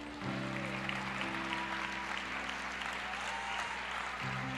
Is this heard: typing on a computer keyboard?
no